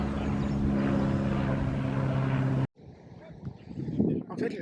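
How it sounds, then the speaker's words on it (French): Small airplane droning overhead with a steady propeller hum that cuts off abruptly, followed by gusty wind and someone talking outdoors in a garden. "Petit avion."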